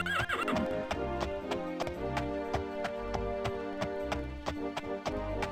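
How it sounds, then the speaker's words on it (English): Video game horse from The Elder Scrolls: Daggerfall: rhythmic clip-clop of hooves trotting steadily, with a neigh near the start, all over a constant musical background. "we get horse sounds until we enter somewhere else"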